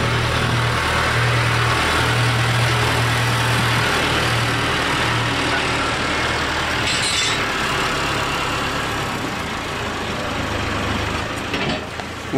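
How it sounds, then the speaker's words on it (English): A tractor hauling a load of bales holds a steady, close engine idle, a low droning hum with a faint mechanical rattle, unbroken for the whole stretch. "Yes, this tractor is a little bit underpowered for this load, I think."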